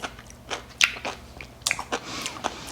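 Crunchy bites into hot air-fried asparagus spears eaten by hand, with several sharp, close crisp crunches and softer chewing between them, spaced out over a few seconds.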